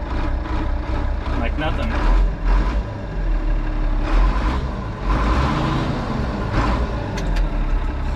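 An old farm tractor engine, left sitting for a while, fires up and runs at a steady, loud rumbling idle, with a person talking over it.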